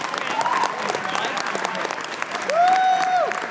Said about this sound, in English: Give him a warm round of applause for having to deal with that.